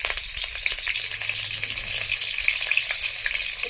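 Chopped green chilies fry in hot oil in a wok as the first step of a cauliflower chow mein, giving a steady, dense, close sizzle with faint crackles throughout and no talking.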